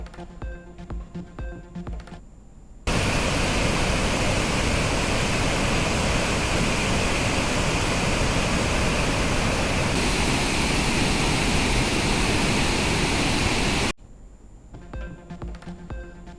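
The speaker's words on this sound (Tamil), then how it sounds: "வறண்டு கிடந்த ஒகேனக்கல் அருவிகளில் ஆர்ப்பரித்து கொட்டும் தண்ணீர்." Water gushes down the Hogenakkal waterfalls on the Kaveri river after heavy rain, a loud, dense, unbroken roar lasting about eleven seconds, with quieter music before and after it.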